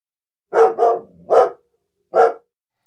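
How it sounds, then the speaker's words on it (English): A dog barks four times nearby, three quick barks in a cluster followed by a short pause and one final bark. "A dog."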